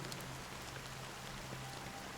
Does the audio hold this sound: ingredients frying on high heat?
no